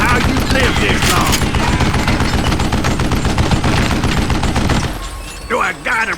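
Rapid, dense gunfire from the Call of Juarez Gunslinger video game, a loud sustained fusillade of shots for about five seconds that then drops away, followed by a voice speaking briefly.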